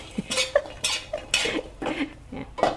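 A pan of Thai garlic being dry-roasted is shaken in quick repeated jerks, each giving a rattling scrape and clatter, about six shakes close by.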